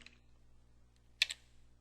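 A couple of quick, close keystrokes on a computer keyboard click out near the end after a near-silent pause, with a faint tap earlier on.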